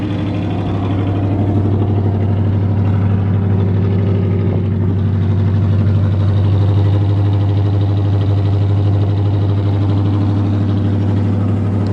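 A 1978 Chevrolet K20 pickup with a 283 V8 idles after a cold start on a wintry day, a steady, loud, low rumble with an even mellow burble and no revving.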